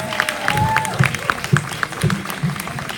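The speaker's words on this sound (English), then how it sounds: "Let's have a big round of applause for teachers here or absent." Audience applause for teachers at a school scholarship event, loud clapping with crowd noise, a voice talking over it and a brief whistle-like tone early on.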